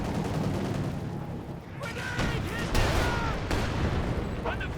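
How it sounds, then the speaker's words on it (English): A zeroing artillery barrage in Company of Heroes 2: a continuous rumbling din of distant shelling and gunfire, with several sharper impacts and whistling streaks breaking through midway. "Oh, we got zeroing artillery coming down."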